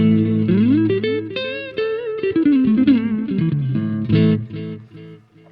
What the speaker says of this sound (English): And next up we have the black panel, which sounds like this.